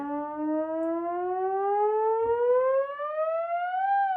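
A single theremin tone glides smoothly and continuously upward in pitch, clear and sustained, with no stepping between notes.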